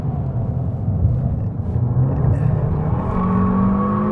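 A turbocharged car engine revs on the Dreux race circuit, a loud, close, steady rumbling drone that builds in pitch with a rising whine, heard alone with no talk.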